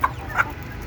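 Native village chickens cluck on a farm: two short clucks close together, fairly near, over a soft low background hum.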